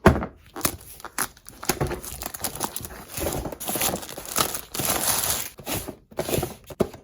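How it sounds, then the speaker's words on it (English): Plastic wrap being peeled and torn off a cardboard toy box for a Melissa & Doug pizza play set, with irregular close crinkles, rustles and taps coming in bursts. "Plastic wrap over a cardboard box."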